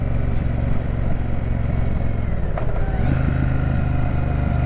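A Triumph Speedmaster 1200 motorcycle on twisty roads near Lake Oroville, its loud, steady engine drone heard close from the saddle, dropping briefly as it shifts down a gear and then pulling again.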